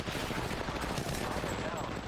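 Dense, rapid gunfire from an Apex Legends match, loud and continuous for about two seconds with overlapping shots and bursts.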